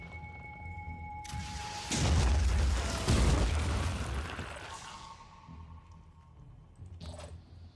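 A missile blast in the strategy game Phoenix Point hits as a deep, rolling boom that swells for a few seconds and then fades into a low rumble, with a soft tone humming under it.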